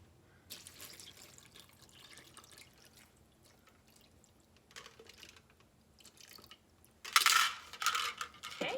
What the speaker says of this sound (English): Then we are going to add in 3 cups of water.